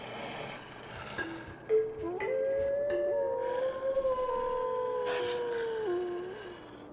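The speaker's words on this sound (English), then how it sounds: "Which one's gonna howl next?" An animal howls in the video game Tengami, a long, wavering, siren-like cry that rises, holds and slides in pitch for several seconds, fairly loud and alone over a soft forest ambience.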